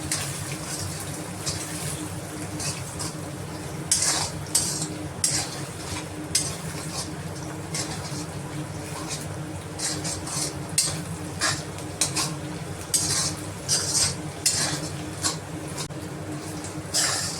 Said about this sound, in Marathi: आता ह्याच्यामध्ये अंडी चांगले परतून घ्यायचे.